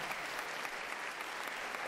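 Steady applause from a crowd at a university open day, dense clapping at an even level throughout with no pauses.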